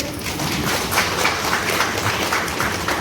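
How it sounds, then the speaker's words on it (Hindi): Church farewell program crowd giving loud, dense applause for two dancers, a continuous wash of many hands clapping at once, steady and fairly close. "डांसर दोनों के लिए हम जोरदार ताली लगा देते हैं"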